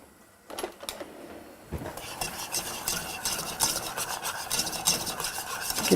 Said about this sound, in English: And we're going to whisk.